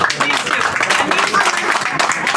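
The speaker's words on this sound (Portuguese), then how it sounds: "pedi um aplauso para o autor do livro" An audience applauds the author of a book at its launch event, dense clapping that fills the room steadily while a voice speaks over part of it.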